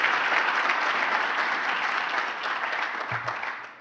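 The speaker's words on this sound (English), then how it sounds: "So please, a round of applause for our generous sponsors and partners." An audience at a Chamber of Commerce breakfast event claps steadily for sponsors and partners, a dense, loud wash of applause that holds throughout and fades slightly near the end.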